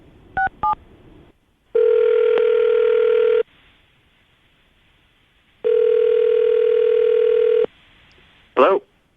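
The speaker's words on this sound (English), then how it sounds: "I'm about to dial the phone number you gave us" Two quick dialing beeps, then two long steady ringback tones separated by a pause, followed by a brief burst of a voice answering.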